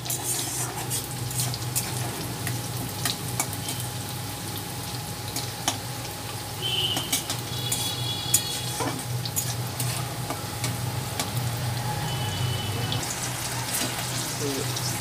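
Ginger frying in a pan for a Govindabhog rice vegetarian pulao, giving a steady, quiet sizzle that runs throughout with occasional stirring scrapes and faint clinks.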